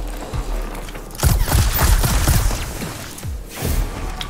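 Shooting an enemy in Warhammer 40,000: Mechanicus brings a cluster of loud mechanical clanks and rapid thudding bursts, then a shorter second volley after a brief lull.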